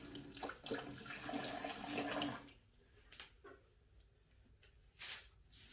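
Water is poured into a waterfall feature being built in a 20-gallon corner vivarium, with a splashing, gurgling pour for about two seconds, then quieter trickles and drips.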